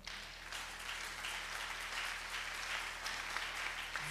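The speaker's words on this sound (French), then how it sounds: "Est-ce que vous pouvez d'abord acclamer?" Audience applause fills the room, a steady broadband wash of clapping that holds at even strength for about four seconds with no break.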